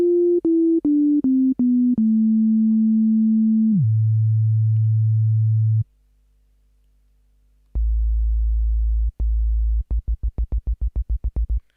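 Pure sine wave tones from a Micrologue synthesizer, first a descending series of steady pitched notes separated by clicks, then a long sustained low tone, silence, and a low tone broken into faster and faster repeated pulses.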